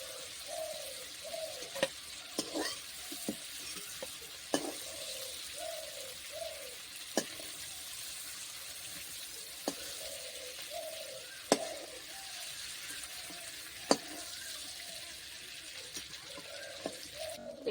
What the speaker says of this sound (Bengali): হালকা করে চিংড়ি মাছগুলো ভেজে নেব চিংড়ি মাছটা হালকা করে ভেজে নিয়েছি